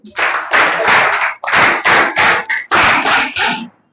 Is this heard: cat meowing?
no